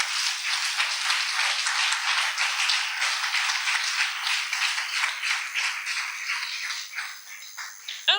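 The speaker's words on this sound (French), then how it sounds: "On acclame le Seigneur." A church congregation applauds and cheers in acclaim of the Lord: dense, steady clapping fills the room without a break, easing slightly near the end.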